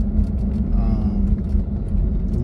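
A Land Rover Discovery 2 cruising at about 30 mph and just over 1,000 RPM, its engine easing off the throttle in a steady, close, low rumble of road and drivetrain noise throughout.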